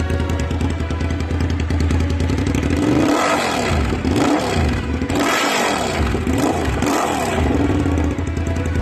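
Japanese motorcycle engine with its exhaust can removed, revving hard and loud throughout, the raw open exhaust rising and falling in several surges over a steady throaty idle.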